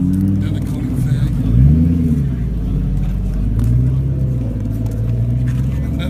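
Deep engine rumble from a passing Koenigsegg CCX supercar swells and fades, with revving swoops over a continuous low drone and background chatter.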